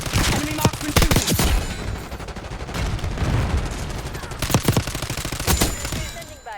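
Rapid bursts of enemy marksman rifle fire in the Call of Duty Black Ops 6 video game, loud and close, with sharp cracks clustered early and again near the end over a dense battle din.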